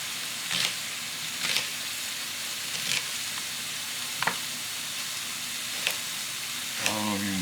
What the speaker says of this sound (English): the sausages in the background is sizzling